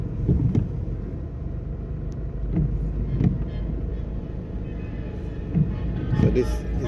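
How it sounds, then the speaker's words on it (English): Road traffic on Marcus Garvey Drive in Jamaica rumbles low and steady as vehicles pass nearby, with wind buffeting the microphone, under someone talking. "a good indication of just how much traffic uses this road"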